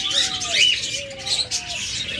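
A pair of lutino cockatiels calling up close with short bright chirps and drawn-out whistled notes that overlap in quick succession, against faint background noise and no talking.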